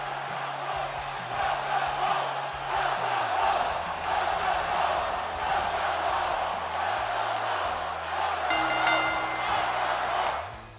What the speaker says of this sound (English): the crowd in the arena will welcome them back with a welcome home chant